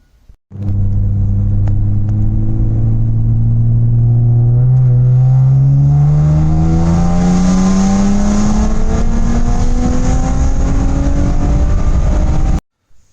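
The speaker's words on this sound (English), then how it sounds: "I'm gonna do a pull here real quick. Just third gear pull." A tuned Ford EcoBoost engine revs hard through a third-gear acceleration pull, its pitch climbing steadily from a low drone to a loud, strained whine over about twelve seconds before cutting off abruptly.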